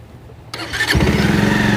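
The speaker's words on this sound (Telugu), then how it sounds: "ఓకే బైక్ స్టార్ట్ చేసిన, బైక్ సౌండ్ ఎలా వస్తుంది" A motorcycle starter clicks, the engine catches within half a second and settles into a loud, close, steady idle with an even, throbbing rhythm.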